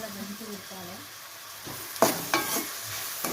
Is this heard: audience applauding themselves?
no